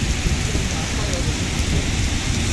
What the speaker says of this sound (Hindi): अबू धाबी में बहुत ज़्यादा बारिश हो रही है आज।